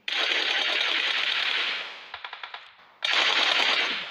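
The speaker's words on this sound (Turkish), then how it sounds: "Oğlum Grover'i sıkıyorum lan" Automatic gunfire in the PUBG Mobile game: two long, loud sustained bursts of rapid shots separated by a brief pause with a few isolated shots in between, with no talk over them.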